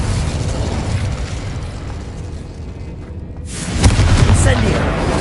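Fire spell cast in Hogwarts Legacy, a loud, dense roaring burst of flame and explosive rumble filling the whole clip, swelling again near the end.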